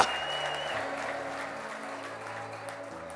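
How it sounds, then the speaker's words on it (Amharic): Steady applause from a large gathering fills the room, continuous and fairly loud, with voices and a sustained musical tone underneath. "ለዚህ ጌታ እልልታ፣ ጭብጨባ፣ ምስጋና እናመጣለን።"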